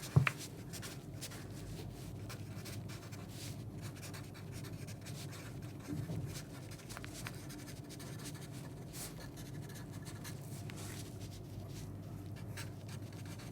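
A fountain pen that came with its own ink cartridge writes on paper in a steady, continuous scratchy stroke sound that runs close and fairly quiet throughout, with no talking.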